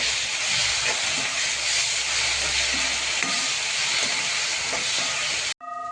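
Schezwan fried rice with tomato sauce and soy sauce stir-fried in a hot pan gives a steady, dense sizzle and hiss with occasional scraping stirs, continuous and close, cutting off abruptly at the end.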